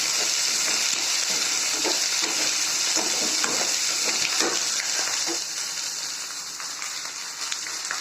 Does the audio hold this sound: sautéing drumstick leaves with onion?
yes